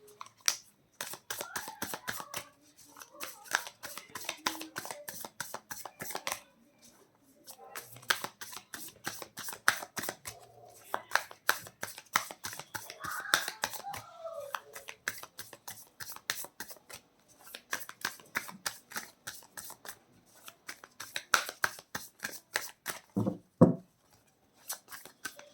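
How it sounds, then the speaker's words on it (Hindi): Tarot cards shuffled by hand in repeated riffling bursts with brief pauses between rounds, close and fairly quiet, without talk. "मैं कार्ड शफल कर रही हूँ आपके लिए,"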